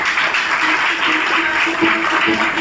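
At a celebration for seventh-level achievers in Meerut, the crowd breaks into loud, hearty clapping. Some voices rise and cheer through the brief burst.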